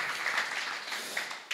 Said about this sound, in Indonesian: Berikan tepuk tangan yang meriah bagi Allah kita saudara